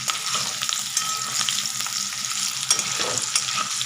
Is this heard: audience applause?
no